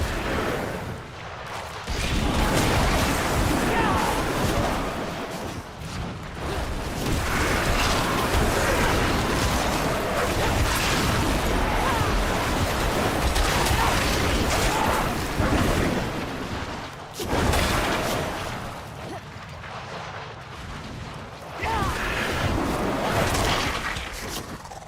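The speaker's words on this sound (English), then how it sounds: "Now there'll be a little explosion." Sorcerer spells in Diablo 4 burst into explosions, loud rumbling booms and crackling blasts layered densely over one another for most of the stretch, with a couple of brief drops in intensity.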